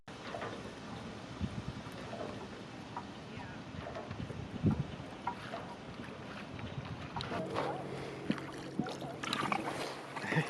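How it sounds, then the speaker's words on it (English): Small dinghy rowed away from an anchored sailboat in a calm bay, with steady wind and water noise throughout, soft oar splashes and knocks, and a few louder thumps and clatters near the end. "we are rowing away from our sailboat"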